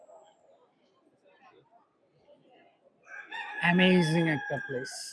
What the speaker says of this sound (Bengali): মোরগের ডাক পুরা কেভের ভিতর ইকো হয়